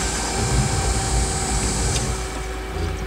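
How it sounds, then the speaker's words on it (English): An electric fuel pump runs without a break, a steady electric whine and hum, a constant mechanical drone with a faint high-pitched tone on top. "Back here we'll turn on the fuel pump."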